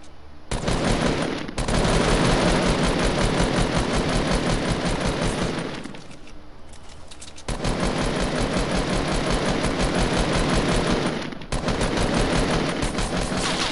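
Rapid automatic gunfire from the player's weapon in a multiplayer shooter video game, loud sustained bursts with brief pauses between long strings of shots, close and dominant with no talking over it.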